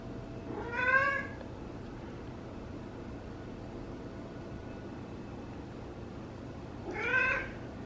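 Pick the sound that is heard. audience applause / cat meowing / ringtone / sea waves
cat meowing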